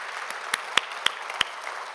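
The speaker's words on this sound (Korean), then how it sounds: "그 하나님께 한번 박수 한번 올려드려야 안 되겠습니까?" A church congregation claps sparsely: several sharp, separated hand claps ring out over a quiet room for a couple of seconds, sounding more like scattered individual claps than full applause.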